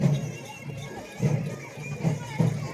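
A busy crowd murmurs at the Banpuri village fair in Atpadi taluka, where people carry goats and roosters. The bustle is fairly close, and someone talks over it with rhythmic low thuds beneath.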